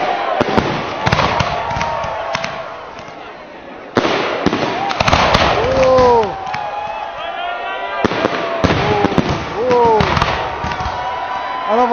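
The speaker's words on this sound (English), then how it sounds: "Another volley of fireworks explodes into the sky." Volleys of fireworks burst overhead on New Year's at Lomond, with loud repeated cracks, whistling rising shells and rolling booms in sustained clusters, plus crowd noise and occasional voices underneath.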